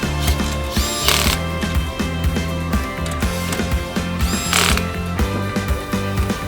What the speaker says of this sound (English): Lastly, tighten the 3 remaining nuts and studs on the main bracket assembly.